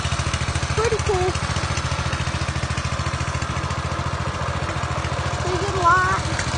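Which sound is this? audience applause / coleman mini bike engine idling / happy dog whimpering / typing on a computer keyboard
coleman mini bike engine idling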